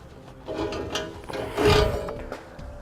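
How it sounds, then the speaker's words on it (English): A steel bumper beam is pulled away from a 2013 vehicle after its bolts are removed, giving close scraping, rubbing and clunking handling noises that swell to a louder grind midway. "With the bolts removed, we can now pull the bumper beam away from the vehicle."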